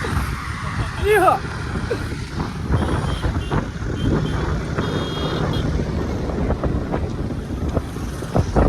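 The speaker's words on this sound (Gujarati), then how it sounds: "એકદમ દેશી પવન આવ્યો, મજા આવે." Wind blowing across open countryside, a steady rushing buffet on the microphone lasting several seconds, with a voice briefly heard near the start.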